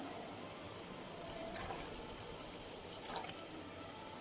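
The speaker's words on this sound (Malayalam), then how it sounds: "ബാക്കി പാല് കൂടി അതിലേക്ക് ഒഴിച്ചു കൊടുക്കാം" Milk being poured into a mixture in a bowl, a soft, faint steady liquid trickle with a couple of small splashes toward the end.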